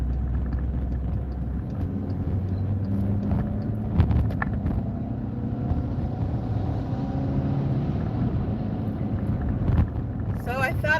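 A car drives home along mountain roads, with a steady low engine and road rumble and some wind buffeting, a brief bump near the middle and a faint rattle at the end.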